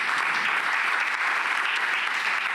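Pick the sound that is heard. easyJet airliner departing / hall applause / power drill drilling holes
hall applause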